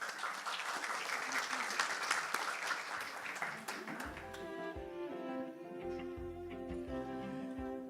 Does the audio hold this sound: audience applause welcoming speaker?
yes